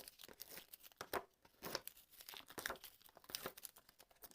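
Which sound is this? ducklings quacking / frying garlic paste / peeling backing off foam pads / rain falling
peeling backing off foam pads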